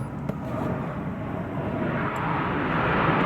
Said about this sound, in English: All that noise is from the Huntington Beach Air Show